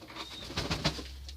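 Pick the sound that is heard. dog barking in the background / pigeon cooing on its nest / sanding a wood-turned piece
pigeon cooing on its nest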